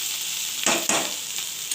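Teasel gourd and potato frying in a pan with poppy seed and black cumin, a steady close sizzle broken by two louder bursts of stirring near the middle.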